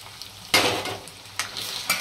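Homemade garam masala, salt, turmeric and red chilli powder frying in hot oil on a lowered gas flame for a surmai kalvan, with a loud sizzling burst as the spices hit the oil and brief stirring scrapes.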